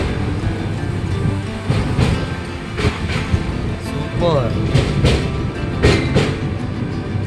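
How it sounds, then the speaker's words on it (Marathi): A train from Mumbai LTT to Ayodhya rumbles steadily across a bridge with a hollow, rhythmic clatter, while a person talks briefly over the noise. "ब्रिजवरून आमची ट्रेन जात आहे"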